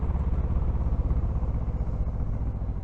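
A motorcycle rumbles steadily while being ridden, a low, continuous engine drone with slight pulsing throughout, close and fairly loud, no talking over it.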